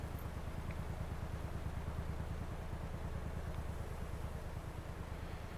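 A vehicle engine in the Gates of Hell strategy game's Finland campaign rumbles at a steady idle, a low, evenly pulsing drone that continues unbroken at moderate volume.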